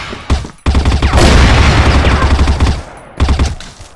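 Sustained automatic fire from an M4A1-S rifle in the video game Crossfire: a loud, dense burst of rapid shots that runs for a few seconds, preceded and followed by a few separate shots.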